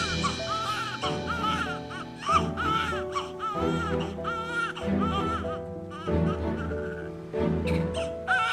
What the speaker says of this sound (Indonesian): itu suara bayi nangis